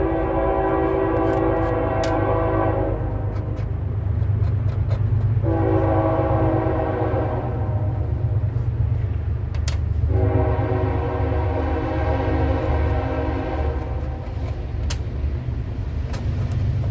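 A train passes close to the tracks with a loud, continuous low rumble, while its horn sounds in three long blasts separated by brief gaps.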